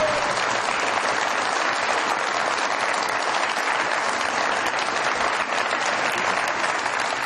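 A studio audience claps loudly and steadily for a guest arriving on a comedy talk show set, dense continuous applause filling the whole stretch without a break.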